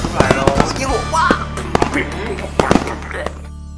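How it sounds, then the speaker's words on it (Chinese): New Year's midnight fireworks in Japan, marking the countdown into a new era, pop and crackle in sharp bursts amid crowd noise, with voices talking over them throughout. "跑出来了， 烟火哇！"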